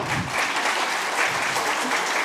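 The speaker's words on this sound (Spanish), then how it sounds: "Un fuerte aplauso para ella, por favor." Steady, dense applause from an audience at an education panel, a continuous even patter of many hands clapping at close range with no voices over it.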